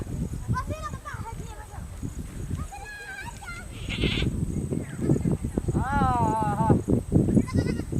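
Goats bleating several times at close range in a rural village setting, wavering calls scattered among people talking loudly over them.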